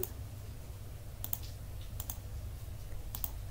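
A computer mouse clicks on design template elements in a few crisp, close clicks, some in quick pairs, over a steady low hum.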